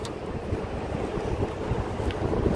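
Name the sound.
hot wind blowing outdoors in Kuwait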